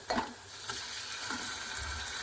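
Tomatoes stirred into cooked onions in a frying pan for tomato chutney, with a steady sizzle and a few scraping stirs of the spoon, close and alone.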